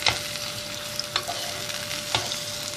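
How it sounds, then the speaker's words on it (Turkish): Peeled tomatoes, added to onion and garlic in olive oil for fresh broad beans, fry in a pan with a steady close sizzle, broken by a few soft scraping stirs of a utensil. "Birkaç dakikada domatesi kavuracağım."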